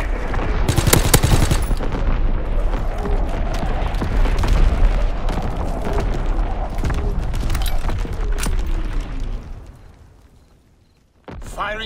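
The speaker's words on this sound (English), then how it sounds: "Incoming enemy artillery! Get to cover! Enemy mortar fire incoming!" Heavy gunfire and booming blasts from artillery and mortar fire in Call of Duty: WWII, a hardcore team deathmatch on the Gibraltar map, sound loud and dense for about ten seconds before fading, then a sharp burst at the end.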